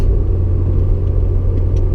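A Honda S2000 sports car with a roughly 20-year-old design, driven on a Sunday morning, gives a loud steady low engine rumble from inside the cabin with no voices.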